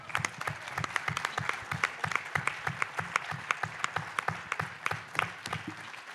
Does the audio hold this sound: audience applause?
yes